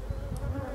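Honey bees buzz inside a hive as they load nectar into the super, a dense, close, continuous hum heard alone for under a second.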